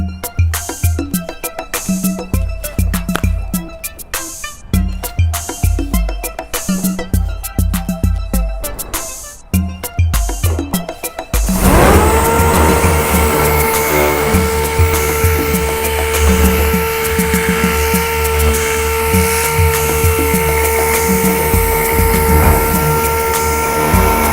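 An 80-grit power sander works over body filler on a car body panel, first in choppy bursts, then settling into a loud, steady whirring grind with a sustained tonal hum.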